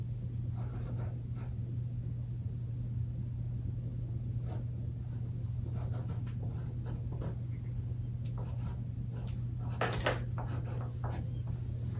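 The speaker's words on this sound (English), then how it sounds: "Can you write your name for me?" A pre-K child writing their name during a reading lesson: faint scratchy pencil strokes in scattered bursts, stronger near the end, over a steady low hum in a quiet room.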